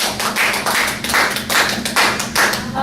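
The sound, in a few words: applause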